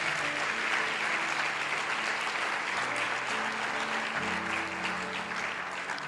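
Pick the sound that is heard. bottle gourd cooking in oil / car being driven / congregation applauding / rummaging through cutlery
congregation applauding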